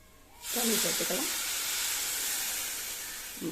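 Water poured into masala frying in a pan for mushroom gravy bursts into a loud, sudden sizzle that hisses steadily for a few seconds, with a brief bubbling sound at the start.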